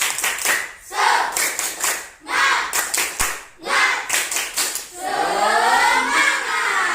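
Children perform the tepuk semangat rhythmic clapping chant in a classroom, bursts of loud group claps in patterned bursts with pauses, chanting voices mixed in, ending in a sustained cheer.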